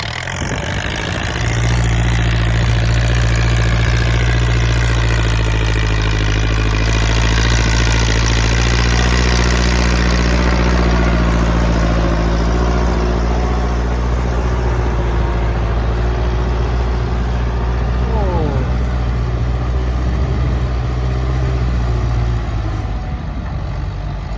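A tractor engine drones steadily while plowing a flooded rice field: a loud, close, unbroken low rumble that holds its pitch for the whole stretch, with no voices.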